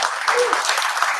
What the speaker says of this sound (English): Round of applause for Foxtail.